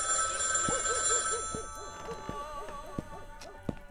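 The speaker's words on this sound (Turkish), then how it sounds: "Telefon çaldı, bir şey yok" An electronic phone ringtone chirps in a repeating pattern, fairly faint, with sharp clicks and a muffled background hum.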